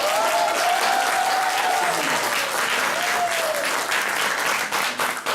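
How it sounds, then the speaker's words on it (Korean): An audience at a student's magic show presentation applauds loudly and steadily for several seconds, a dense wash of clapping with a few whistles or cheers riding over it. "박수!"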